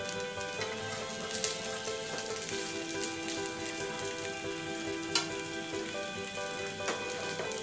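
A bottle gourd ghavan pancake sizzles and fries steadily in a pan, a soft continuous crackle with occasional small pops and no one speaking.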